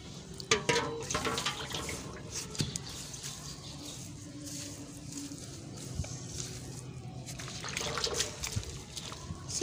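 Water poured into a clay and straw mixture during mud house building outdoors, a soft trickling and splashing that continues steadily with small spattering bursts, fairly faint, with a bird faintly audible and no talking.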